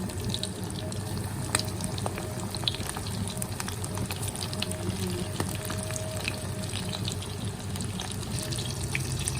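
Fish fillet and squid calamari frying in hot oil, a steady dense crackle and hiss filling the whole stretch at a constant moderate level, with no voices.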